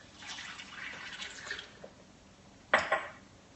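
Water poured into a smoothie blender jar, a soft trickling splash at low level followed by a brief sharper clatter near the end, faint and close.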